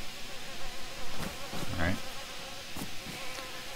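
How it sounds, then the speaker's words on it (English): Bees around a beehive in the video game DayZ, placed with a rag beehive mod, give a steady, close insect buzz that runs throughout, with a brief spoken word in the middle. "Obviously it triggered the sound of the bees."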